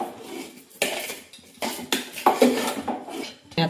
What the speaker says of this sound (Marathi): सगळं मिक्स करून घ्यायचं.